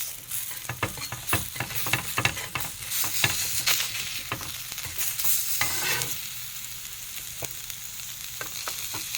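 Matambaka fish sizzles on a grill while it is turned over, giving a steady crackle with frequent sharp clicks and taps of the utensils, close and fairly loud.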